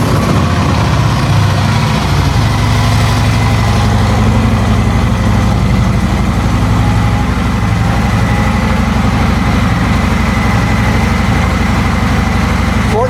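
A Harley-Davidson motorcycle fitted with a Tab Performance slip-on exhaust and Zombie baffles idles loudly and steadily close by, a deep continuous rumble with a lumpy low pulse throughout and no talking.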